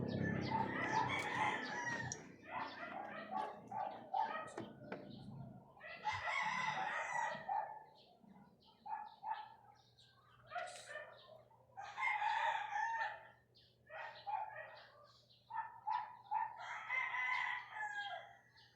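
A rooster crows repeatedly, several loud, drawn-out calls at close range, spaced a few seconds apart over a low background hum.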